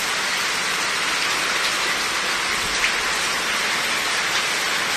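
Heavy rain pours down in Abohar, a loud, dense and unbroken hiss of water striking surfaces close by, steady throughout with no voices.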